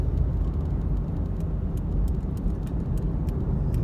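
A car passes on a two-lane road in light snow, its steady broadband road rumble and tyre noise close and fairly loud throughout, with no voices over it.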